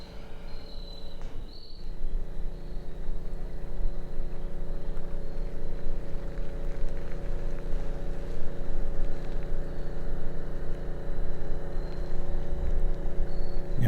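A boat motor drones steadily across a lake, a low continuous hum heard from a distance with faint insect chirps and lapping waves in the background.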